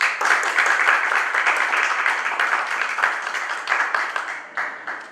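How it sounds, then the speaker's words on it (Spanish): Audience applause from a live crowd at a stage interview event, a dense, steady wash of many hands clapping at close range, holding loud for about five seconds and easing slightly toward the end, with no talking. "Un aplauso para ellos."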